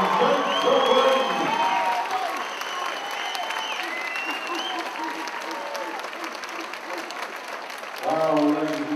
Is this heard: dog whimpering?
no